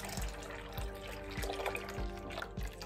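Cold water, about a litre, poured into a homemade liquid soap mixture: a steady splashing pour with regular low thumps recurring about every half second, close and moderately loud, no speech.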